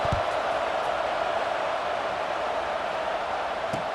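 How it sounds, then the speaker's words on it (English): A football stadium crowd murmurs and buzzes steadily after a score, a dense, continuous wash of distant voices with no distinct cheer peaks, heard alone without commentary. "this crowd is buzzing after that last score"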